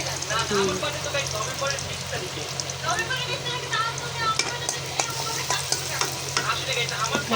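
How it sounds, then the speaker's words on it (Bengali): Onion and garlic sizzle steadily in hot oil as a tempering for lau shak bhaji and dried-fish bhuna, with occasional stirring clinks over a low steady hum, close by, and faint voices in the background. "পেঁয়াজ আর রসুন, পেঁয়াজ রসুন এখন বাগার দিবে"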